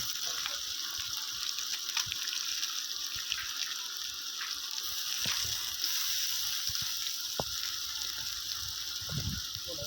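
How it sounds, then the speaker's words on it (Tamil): Country chicken sizzles steadily in hot oil with ginger garlic paste and onions, a continuous frying hiss with occasional clinks from stirring, no talk. "இதை நல்லா பச்சை வாசம் போகிற அளவுக்கு நல்லா வதக்கிக்கலாம்."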